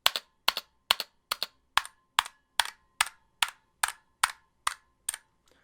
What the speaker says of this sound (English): you're also getting a lot of ping after every single key press